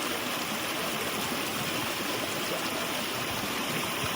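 Small waterfall at Ayn Athum in Oman, a steady close rush of falling water that pours without a break and with no voices over it.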